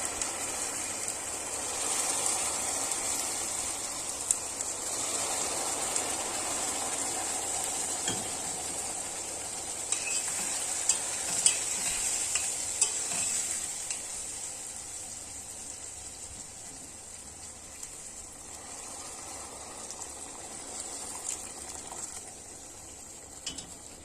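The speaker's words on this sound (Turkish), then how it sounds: "Şimdi üzerine sıcak su koyu döküyoruz biraz." Hot water poured over toasted barley vermicelli in a pan, sending up a loud, continuous hissing sizzle that holds steady and then slowly fades, with a few faint clinks and no voices.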